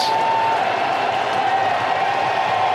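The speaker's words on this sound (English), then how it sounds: "They just keep on cheering." A baseball stadium crowd cheers and applauds steadily for a curtain call after a home run, a dense, sustained roar with no break, heard from within the stands.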